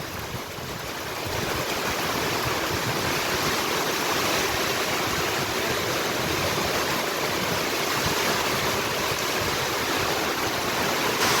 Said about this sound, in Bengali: ভালো অনেক সুন্দর ভালো বৃষ্টি হচ্ছে